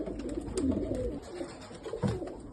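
Pigeons coo in a loft, a low soft murmur of several birds running throughout, with a slightly stronger coo near the end.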